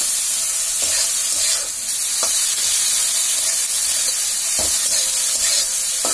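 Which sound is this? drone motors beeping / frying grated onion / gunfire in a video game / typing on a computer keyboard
frying grated onion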